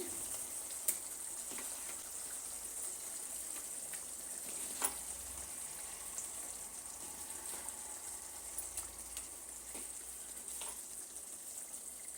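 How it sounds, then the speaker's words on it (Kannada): Prawns going into a curry gravy as it simmers in a pan, giving a faint, steady sizzle and hiss with a few soft pops, and no talking. "ಈಗ ಪ್ರಾನ್ಸ್ ಹಾಕ್ತಾಯಿದ್ದೀನಿ"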